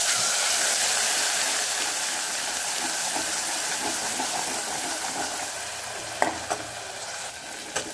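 Ground masala sizzling as it roasts in hot oil with cumin and asafoetida, a loud, steady hiss that eases slightly over time, broken by a few sharp clinks of stirring near the end.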